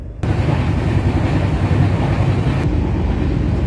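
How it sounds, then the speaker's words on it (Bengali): Sleeper class night train running through Odisha from Kolkata, a loud steady rumble and clatter of the carriage that cuts in abruptly and holds throughout, with no talking. "আমাদের ট্রেন ভুবনেশ্বর ঢুকছে।"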